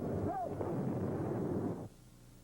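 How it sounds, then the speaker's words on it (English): Gunfire and shelling in Bangkok during a coup, a dense continuous roar of blasts and bursts lasting nearly two seconds before dropping off abruptly to a low background. "There was gunfire and shelling, and caught in the crossfire, an NBC crew."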